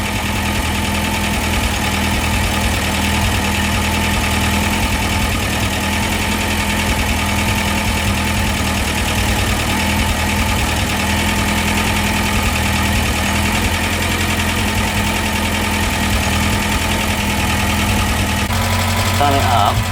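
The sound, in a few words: Talbot Express van engine idling with new exhaust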